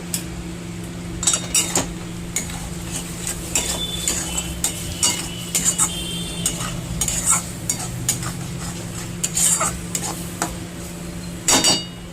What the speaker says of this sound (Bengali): এবার এতে আমি আলুগুলো দিয়ে দেবো একে একে